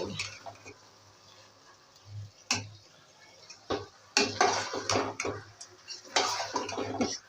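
A spoon stirs gajar ka halwa, carrot halwa being roasted in ghee, in a pan: sparse soft scrapes and clinks, growing busier and louder toward the end, over a low steady hum.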